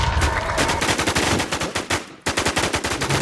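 Loud, rapid automatic gunfire in the online survival shooter WarZ: sustained bursts of closely spaced shots with a short break before firing resumes.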